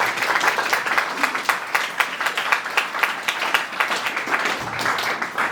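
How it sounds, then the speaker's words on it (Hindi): A church youth gathering in Nepal claps together in welcome of a visiting preacher, a steady crowd applause of many hands rattling on for several seconds without voices. "हामी अझै उहाँलाई महिमाको ताली बजाएर चाहिँ स्वागत गरौँ न।"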